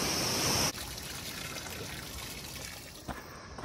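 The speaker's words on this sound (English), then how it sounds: "A little bit of a waterfall." A small waterfall on a narrow mountain trail rushes and splashes in a steady, fairly faint wash of water, broken by a brief bump near the end, with no talking.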